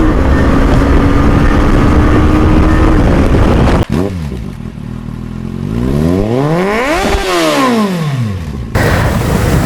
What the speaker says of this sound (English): when I'm shifting from first to second using the quick shifter, I'm feeling a bit hard